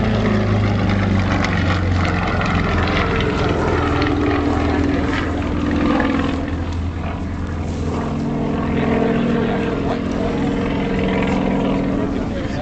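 Heavy propeller aircraft flying aerobatics at an air show, a loud sustained droning engine roar with pitch swells as it maneuvers, with talk over it.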